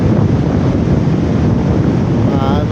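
Wind buffets the microphone at a beach in General Nakar, Quezon, a loud continuous roar with surf-like wash underneath and no pauses.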